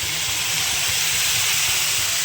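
Spice paste with ginger-garlic paste and onions fries in a pan for jackfruit kofta curry, giving a loud, continuous, close hiss of sizzling oil with no pauses and no talking.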